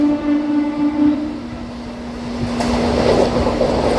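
A Nellore-to-Sullurupeta MEMU passenger train passes a station, its horn sounding as a long steady tone before the rumble of the carriages swells loudly.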